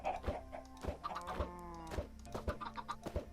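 Chickens in the Minecraft video game cluck in a steady series of short, evenly spaced calls, each a clipped synthetic cluck with a faint pitched tail, heard clearly and alone.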